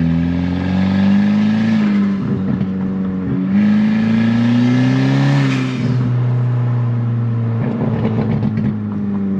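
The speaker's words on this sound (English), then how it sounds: "Gosh, that blow-off valve." Tuned KSR Performance Kia revving hard through several pulls, each ending in a sharp hissing whoosh from the turbo blow-off valve, loud and close with no talk.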